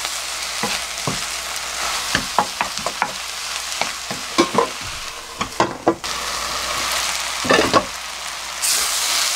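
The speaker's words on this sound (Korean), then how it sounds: "한 시간씩 이렇게 계속 볶으면서 갈색이 되도록 볶거든요." Onions stir-frying in a pan for onion jam: a continuous hissing sizzle broken by repeated scraping and clacking strokes of a spatula, close and loud, with no talking.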